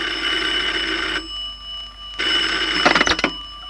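Telephone bell rings in bursts, a loud ring, a short pause, then another ring, followed by a clatter as the handset is picked up, with no voices.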